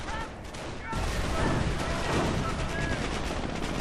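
Dense, rapid gunfire from a video game battle, including submachine gun bursts from grease guns, rattles continuously and loudly with overlapping shots and crashes.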